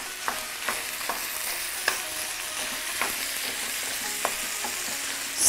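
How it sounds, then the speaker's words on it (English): Onion and lean ground meat sautéing in a pan give a steady, close sizzle, with sharp scrapes and taps from a spoon stirring at irregular intervals and no voices. "we will saute until brown and tender"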